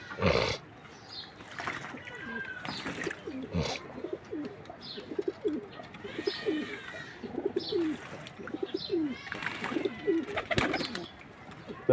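Pigeons cooing while bathing in freshly poured water, soft repeated coos and splashy flutters close by, with occasional quiet talk in the background.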